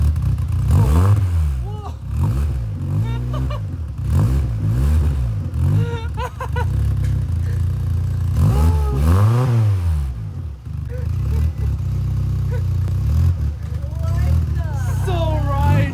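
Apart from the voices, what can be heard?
new Volkswagen car engine revving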